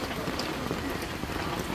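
Steady rain falls over an outdoor rural market day in Yongmun, Korea, a dense continuous hiss of drops on surfaces with no voices heard.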